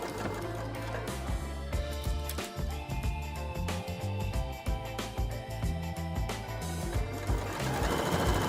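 Sewing machine stitching striped jersey fabric along a stripe, a fast continuous mechanical chatter of needle strokes, close and loud, running steadily without pause.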